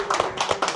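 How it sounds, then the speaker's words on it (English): A few distinct hand claps at a panel event after a film screening, sharp and close, coming in quick separate bursts rather than full crowd applause. "I think they both deserve a massive round of applause again,"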